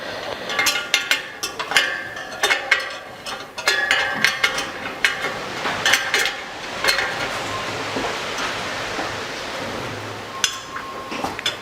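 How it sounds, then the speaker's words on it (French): Electric bike wheel spokes being tightened on the right side with a spoke wrench, close metallic clicks and ratcheting ticks in irregular bursts, fading to quieter handling toward the end. "pour le moment, on va serrer les rayons à droite"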